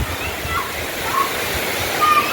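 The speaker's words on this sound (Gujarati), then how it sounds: "પવન સાથે વરસાદ ધોધમાર ચાલુ થઈ ગયો છે" Heavy rain falls with wind in Rajkot, a loud, dense, continuous roar of water with no breaks.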